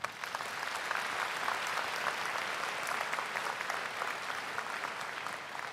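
Audience at a high school commencement ceremony applauding, a broad sustained wash of many hands clapping steadily throughout, fairly loud and even.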